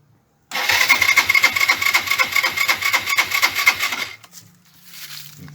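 The starter of a Suzuki GN 125 motorcycle cranks the engine with the throttle wide open during a compression test, a loud rhythmic whirring churn for about three and a half seconds, then it stops and a faint hum remains.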